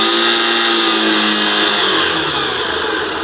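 A Yamaha YBR 125 motorcycle engine, which makes a fault noise at idle, is revved higher into a sustained close whine whose pitch shifts as the revs change, with no knocking pulse.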